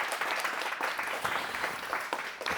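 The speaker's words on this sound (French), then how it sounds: "ça, on peut applaudir peut-être ce propos de M. Klaus." Audience members at a local debate on whether Mulhouse is a city of solidarity clap together, a sustained, moderately loud patter of many hands with uneven surges.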